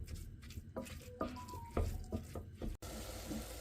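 Vegetables sauté over medium heat for a ragù, a low steady sizzle in a pan broken by a few soft scraping stirs, close and fairly quiet, with no talking.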